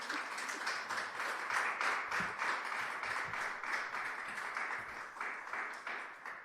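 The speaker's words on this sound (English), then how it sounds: "A big round of applause for them." Audience applause at a Valentine's Day concert, a steady wash of many hands clapping that fills the room for several seconds, fairly loud and continuous with no talk over it.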